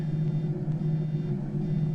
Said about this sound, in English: hopefully that alarm will stop